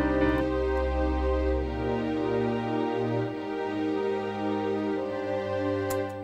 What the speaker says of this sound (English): I put that down on a Halion Sonic using a warm orchestra string